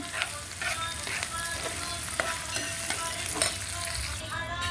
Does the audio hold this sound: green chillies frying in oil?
yes